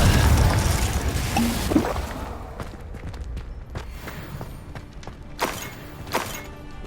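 Repeated Confringo spell blasts in the Hogwarts Legacy video game during a fight, an early heavy boom followed by a series of sharp impacts and crashes, loud and close.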